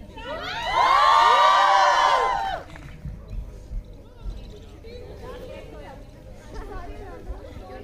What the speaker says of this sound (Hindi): जोरदार हूटिंग हो जाए।